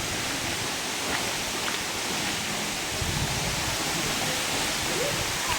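Katibawasan Falls on Camiguin Island roars as a steady, loud, close rush of falling water, unbroken throughout.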